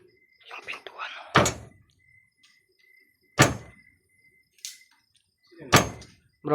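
Door in an abandoned house creaking and thudding three times at spaced intervals, each knock loud and close, with hushed talk early on and a faint steady hum in the background.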